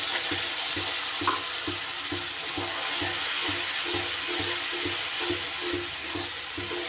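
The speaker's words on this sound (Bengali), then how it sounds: "দিয়েই কিন্তু মশলাটা এইভাবে নাড়িয়ে দিতে হবে" A masala paste with cashew, poppy seed and Kashmiri chilli powder fries in a pan, giving a constant close sizzle with a rhythmic scrape of stirring repeating roughly twice a second, with no talk.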